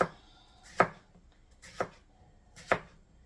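Cucumbers sliced into half moons with a kitchen knife on a cutting board, three crisp, separate chops spaced about a second apart, close and clear in an otherwise quiet room.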